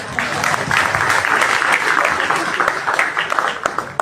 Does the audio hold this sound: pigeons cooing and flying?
no